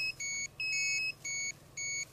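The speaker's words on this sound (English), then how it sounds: "You can see the outer mass goes into alarm mode" Gamma-only energy-compensated Geiger millitube radiation detector in alarm mode, emitting four clear high-pitched electronic beeps in a steady on-off rhythm, close and alone against faint background hiss.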